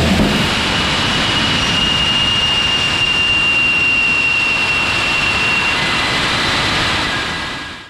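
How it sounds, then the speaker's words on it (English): Nammo ramjet rocket motor, built to fit a 155mm artillery shell body, roaring in a steady, loud, continuous rush during a static test firing, holding full intensity for about seven seconds before tailing off, with no talk. "more than 150 successful motor tests have been completed"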